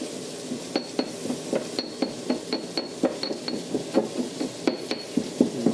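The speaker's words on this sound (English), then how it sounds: "Grinding down the garlic this way will release the oils in it and give it so much more flavor." Garlic is ground into a thick paste for guacamole, with a steady run of close, sharp clinks and taps, roughly two per second, as the tool strikes and grinds against the bowl, with no voices.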